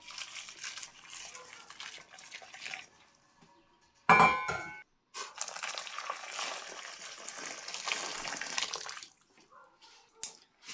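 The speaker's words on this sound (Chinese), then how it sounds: "然后加一勺热水来烫" Hot water from a spoon splashes over scored chestnuts in a basin, a gushing pour with a sharp metallic clang, then a longer stretch of running, splashing water that stops near the end.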